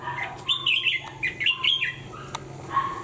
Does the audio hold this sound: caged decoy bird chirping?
yes